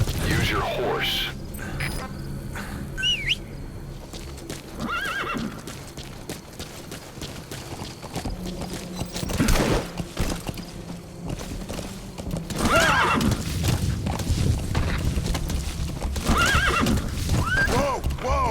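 A horse in Metal Gear Solid V whinnies and gallops with loud, close clip-clop hoofbeats, mixed with game effects and occasional booms while voices speak over it.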